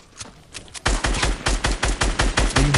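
Rapid automatic gunfire from Fortnite, a loud burst of evenly spaced shots that starts sparse and then rattles steadily, with no voices.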